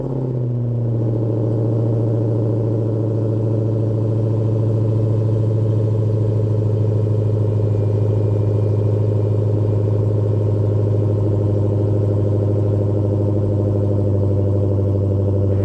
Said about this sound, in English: then of course you have the monstrous dual exhaust